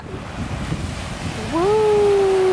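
Ocean surf rolls onto a sandy shore at Newport Beach as a steady, close wash of water and wind, and a brief high rising tone, like a voice, comes in over it partway through.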